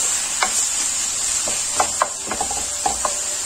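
Chicken sautéing in a pan over a steady soft sizzle, with several light scraping and stirring knocks from a utensil scattered through it, close and moderately loud.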